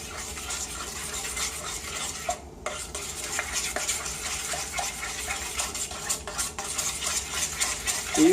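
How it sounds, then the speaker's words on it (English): A spoon stirs hot liquid in a pot, melting ingredients for a white cake's mirror glaze, with steady scraping and clinking against the pan and a faint bubbling sizzle underneath, continuous and close, without any talk. "You stir it so all the white stuff in here disappears and blends in."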